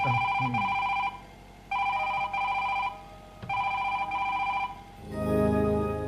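A telephone rings in repeated bursts with short pauses between, loud and close, followed by a brief muffled rumble at the end.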